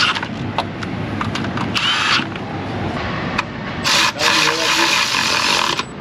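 A power tool snugging up bolts in an auto repair shop, buzzing in short bursts and longer runs close by, with brief gaps between spins and some background shop noise.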